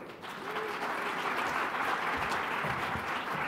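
Sustained applause from an audience at a health presentation event welcoming a head and neck surgeon, a dense steady wash of clapping lasting throughout with no speech over it.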